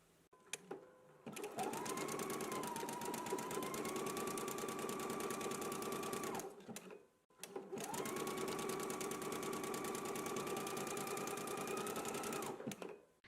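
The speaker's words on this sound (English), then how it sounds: "I'm back from the sewing machine." A sewing machine runs in two long, steady bursts of rapid mechanical stitching, separated by a short pause, close and fairly loud.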